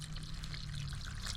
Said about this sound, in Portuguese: Vou colocar um pouco mais de água